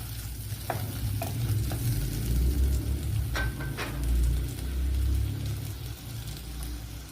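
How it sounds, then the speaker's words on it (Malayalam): Fish sizzling and frying in a pan for a fish curry, a steady hiss with occasional stirring clinks, close and alone without speech. "ഇനി ഇതിനെ ഒന്ന് ഫ്രൈ ചെയ്തെടുക്കാം"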